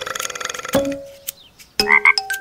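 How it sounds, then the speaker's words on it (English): A cartoon frog gives a short, clear croak among other brief animated sound effects, close and moderately loud, with no speech. "Nope, that was the sound of a frog."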